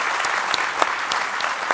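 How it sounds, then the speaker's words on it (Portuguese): An audience gives a burst of applause at a Portuguese talk on brain stimulation, with dense, steady clapping close by that fills the whole moment. "Uma salva de palmas para eles"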